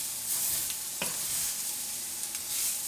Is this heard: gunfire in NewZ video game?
no